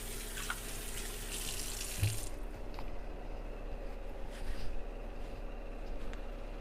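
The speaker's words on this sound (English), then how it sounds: "now wash my hands one more time," Hands washed under a running kitchen tap to remove oil, steady close water flow with splashing and rubbing, a brief louder splash partway through, no talking.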